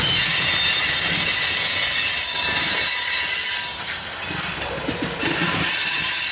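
CSX freight train Q696 rolling past near Mount Holly, a loud sustained rumble of cars with hiss and squealing wheels, close by and slowly easing toward the end, with no voices.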